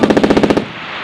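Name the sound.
Marine Corps machine gun section firing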